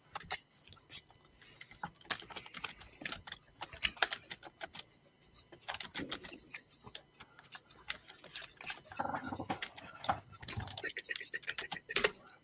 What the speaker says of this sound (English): I haven't even finished typing it yet